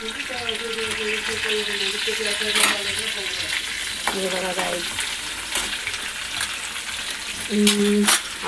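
Mustard seeds and cumin fry in hot oil for a cabbage sabzi, a constant bright sizzle close by, with a person talking intermittently over it.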